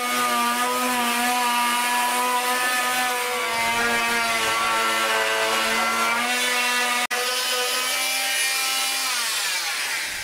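A saw cuts through wood to open the groove of a composite boat mast, a steady close rasping drone with a sustained tonal whine, broken by one brief sharp click near the end.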